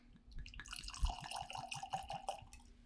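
Whiskey poured from a freshly opened bottle into a glass: a close, gurgling trickle with rapid glugs and splashes for a few seconds, fairly quiet and with no talking.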